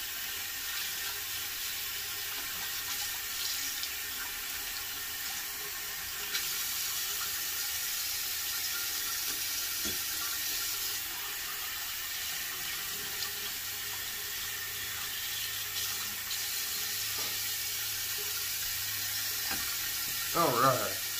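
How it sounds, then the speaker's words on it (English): Tap water runs steadily and close by as a shaving brush is rinsed at a sink during a wet shave, a continuous hiss that stays even throughout, with a few faint knocks near the end. "Go ahead and rinse my brush out"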